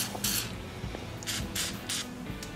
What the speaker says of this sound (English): we're going to want to spray this journal with some gel lube